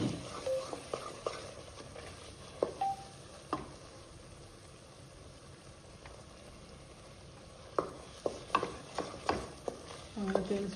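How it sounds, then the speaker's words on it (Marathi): Masala paste fries in oil for a village-style chicken curry with a soft, low sizzle, while a spoon scrapes and clicks against the pot in scattered bursts. "आपण परतून घेणार आहोत."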